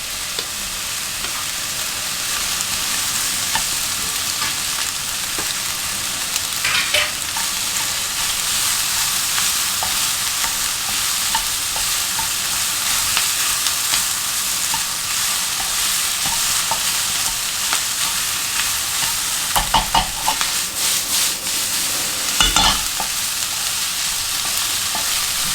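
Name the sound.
frying luncheon meat with aromatics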